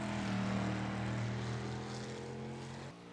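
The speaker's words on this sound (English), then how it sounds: "Engines, they don't sound as powerful as I would imagine them to be" Dirt race car engine in the iRacing sim game, a steady droning hum with sustained low tones, loud and close, with no talk, dropping and changing abruptly near the end.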